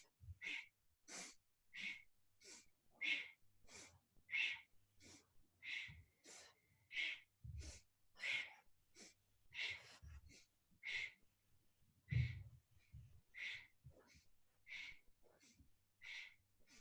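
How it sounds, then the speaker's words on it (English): Forceful rhythmic yoga breathing: about two dozen sharp, close exhalations pushed out at a steady quick pace, each a short breathy burst with a brief gap between. "And it's sort of a forceful breath."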